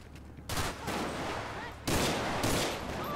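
Automatic gunfire in the video game GTA 5 during a police roleplay chase, with two loud bursts of rapid shots close up separated by a short gap, each burst ringing out before fading.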